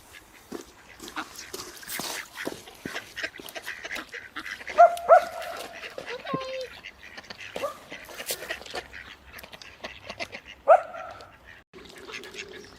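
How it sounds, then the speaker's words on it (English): Ducks approach across open water, giving scattered quacks and honk-like calls, loudest in a few sharp bursts, with people talking quietly in the background. "You got ducks coming over."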